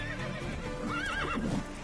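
A horse whinnies loudly in The Witcher 3 video game with a wavering, rising-and-falling neigh, backed by game sounds and faint hoofbeat clatter, with no talking.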